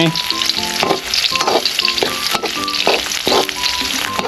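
Vegetables and mackerel being stir-fried in a pan give a loud, close sizzle, broken by repeated scraping and tossing strokes at an uneven rhythm, with no voices.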